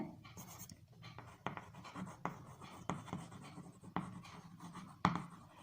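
Marker or chalk writes on a board during a maths lesson on linear equations, making faint, steady scratchy strokes broken by sharp taps. The room is otherwise quiet.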